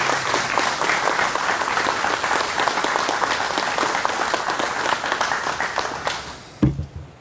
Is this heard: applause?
yes